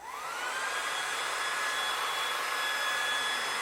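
Hair dryer blowing on a freshly washed, shampooed and conditioned wig, starting up with a rising whine and settling into a steady, close, airy roar with no talking.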